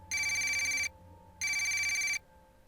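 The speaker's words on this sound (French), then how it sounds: "Comme vous entendez, le téléphone sonne." A telephone rings twice in clean, bright electronic bursts of nearly a second each, separated by a short gap, loud and close against a faint background hum.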